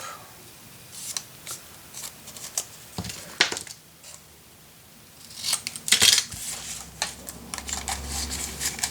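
Scissors snipping through paper to match an envelope's size, a series of crisp close cuts in uneven bursts with light handling rustles between them.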